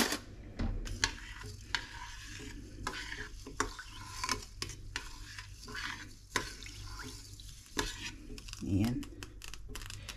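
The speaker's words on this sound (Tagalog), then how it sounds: "Tapos haluin natin." Basmati rice with turmeric powder gets stirred in a pot: a spoon clinks and scrapes in repeated sharp strokes over a faint sizzle, with a voice talking softly in between.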